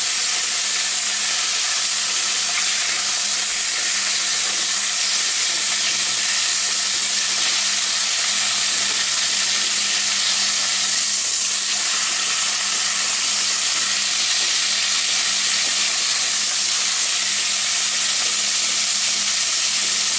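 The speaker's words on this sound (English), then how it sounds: "Just want to sear the outside." Chicken and pork sear in a hot pan for adobo, giving a loud, continuous close-up sizzle and hiss that stays steady and unbroken throughout, with no talking.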